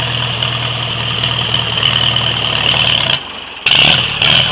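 A 1945 Farmall A tractor engine runs steadily just after a cold start, a loud, close, even idle with a low thudding firing rhythm, briefly dropping in level before picking back up near the end.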